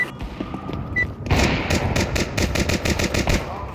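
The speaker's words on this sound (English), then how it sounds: "Oh shit, bro, stop shooting!" Rapid automatic gunfire in Counter-Strike 2 on the Inferno map: after a quiet start, sharp bursts of shots rattle in a fast, steady rhythm, loud and close, with distant pops under them.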